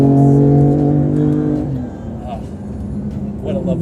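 2018 BMW M4 Coupe in third gear around 4,500 RPM, a loud close engine drone with strong steady harmonics that eases off as the revs drop, overlaid by the driver talking.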